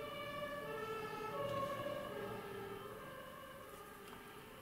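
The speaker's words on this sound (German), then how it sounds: "Tatütata schon wieder unterwegs." An emergency vehicle siren wails faintly in the distance, its steady tones swelling slightly and then fading as it passes.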